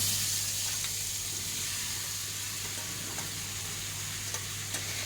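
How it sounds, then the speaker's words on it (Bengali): Paneer tipped into hot oil in a kadai fries with a steady, even sizzle and hiss that holds for several seconds, close and alone with no voices. "এবার কড়াইতে তেল গরম হয়ে গেছে, এর মধ্যে একটু গোটা গরম মশলা দিলে হয়, আমি আর দেইনি, আমি পুরো পনিরটাই ঢেলে দিলাম।"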